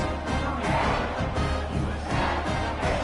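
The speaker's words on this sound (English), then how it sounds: "this crowd is buzzing after that last score" A large American football stadium crowd buzzes after a touchdown, a dense, continuous roar of many voices with gentle swells and no single voice standing out.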